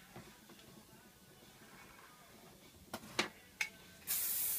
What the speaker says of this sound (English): plenty of spray so that we can get it nice and sleek.